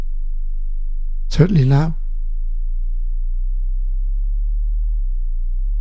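A steady 25 Hz sine tone from a Moog Mother-32 synthesizer hums low and continuous throughout, with a short burst of speech over it near the start.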